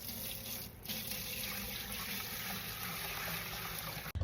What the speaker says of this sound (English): We are going to strain our broth, friends, because we are going to need this broth for our masa.